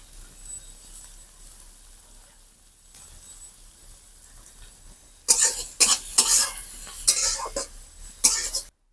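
Chopped green chili fries in a pan with a soft, steady sizzle. Partway through, a spatula starts stirring and scraping against the pan, making loud, irregular clatters.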